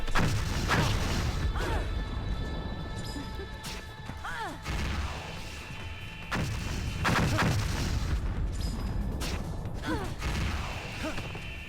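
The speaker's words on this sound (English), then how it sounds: "We gotta dodge all the missiles coming in." Missiles exploding during a boss fight in the video game No More Heroes, a series of heavy booming blasts and crashes repeating across the stretch over a constant dense game soundtrack.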